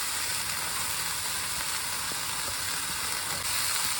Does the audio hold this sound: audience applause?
no